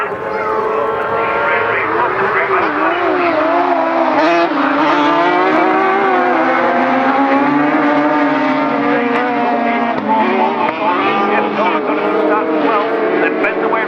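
Rallycross race cars roar off the line together at Croft, a dense, loud, sustained engine blare with overlapping revving tones throughout, while a commentator talks over it.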